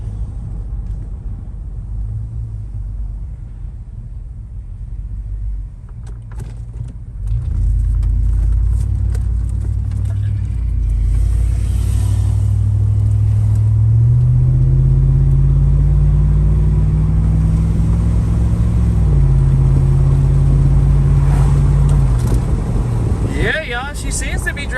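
A Cadillac on the road rumbles steadily, then its engine note swells and climbs as the car picks up speed, settling into a loud, sustained drone near the end.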